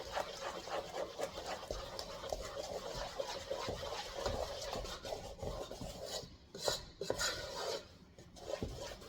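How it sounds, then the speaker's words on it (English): Icing sugar being stirred into brown sugar icing for a Cinnamon Toast Crunch cake, with a steady run of close scraping and rubbing strokes against a bowl, fairly quiet and unbroken by talk. "stir till all the icing sugar is incorporated"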